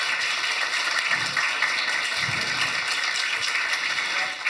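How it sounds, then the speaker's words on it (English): A conference audience applauds the organizing team at a booking industry summit, a steady broadband wash of clapping that holds evenly throughout at moderate loudness with no talk over it. "Can we just quickly do a round of applause for the organizing team?"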